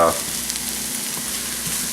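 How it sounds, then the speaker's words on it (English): A pot of potatoes bubbles steadily on the stove, a dense, constant hissing and bubbling wash that stays even and close throughout, with no voices. "The potatoes are not even close to being done yet, and they've been doing their boiling thing for about 25 minutes now."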